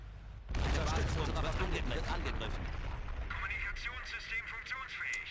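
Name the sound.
artillery bombing in video game Blitzkrieg mod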